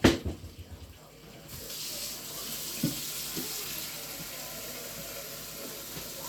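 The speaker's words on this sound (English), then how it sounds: "we're gonna add a whole bunch of water" Tap water runs steadily into a large soup pot on a stove, a continuous broad hiss and splash that starts with a few clunks and then holds fairly loud throughout, with no talk over it.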